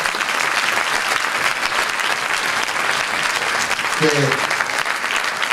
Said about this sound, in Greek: Ένα θερμό χειροκρότημα τον μαέστρο της χοροδίας,